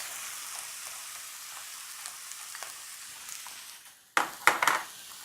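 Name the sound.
garlic, soy sauce and hoisin sauce added to frying pan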